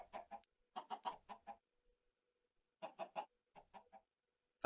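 Chickens in the Minecraft video game cluck in short clustered bursts of three to five notes, separated by quiet gaps, fairly clear and close with no talking over them.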